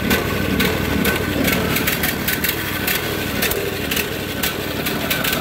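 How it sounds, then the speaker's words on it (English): A Briggs & Stratton small engine with a suspected bad head gasket and oil-soaked air filter runs steadily and loudly up close, a rough, uneven chugging with no talking over it. "it's acting like doesn't want to run, it's stumbling, it's stalling, it's smoking, the choke's off"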